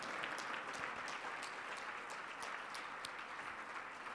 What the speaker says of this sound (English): Come on, clap your hand for Jesus